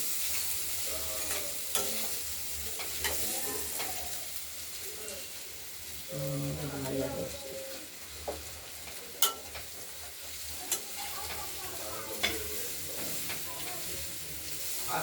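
Beetroot and carrot strips frying in oil with green chilli in a kadai, stirred after the lid comes off: a soft steady sizzle with scraping stir strokes and a few sharp clinks, fairly quiet, with a voice briefly in between.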